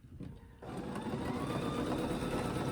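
A sewing machine with a ruler foot stitches a quilt block in a rapid, steady mechanical patter. It starts after a brief pause and runs continuously, close and moderately loud.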